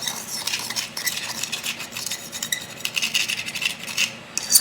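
A spoon scrapes and clinks repeatedly against a bowl while stirring instant coffee and sugar for whipped coffee, close up, with an uneven circular rhythm and no talking.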